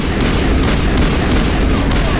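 Gunfire in the Mass Effect video game, rendered as a loud, dense burst of game combat noise that holds steady across the whole short moment, with a few sharper shots standing out from the constant roar.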